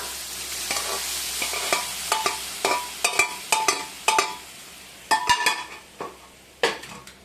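Cooked jackfruit seeds are tipped into a pan and stirred, with a spoon scraping and clattering against the metal in a run of distinct knocks over a soft sizzle, loud and close.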